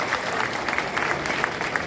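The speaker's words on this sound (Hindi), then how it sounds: "एक बार जोरदार ताली हमारे मुख्यमंत्री के लिए बजा रहे हैं।" An audience at a political rally on a stage event in Jhabua claps loudly and steadily, the applause sustained and dense throughout with a faint crowd murmur beneath it.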